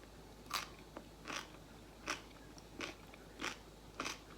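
Six crisp, evenly spaced crunches of someone biting and chewing spicy bread-and-butter pickled unripe melon topped with chili, close and fairly quiet against a faint background hum.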